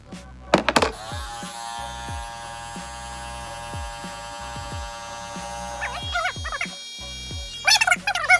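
Electric hair clippers buzz steadily and close up during a self-given haircut, with short sharp knocks and rustles at the start and end and no talking.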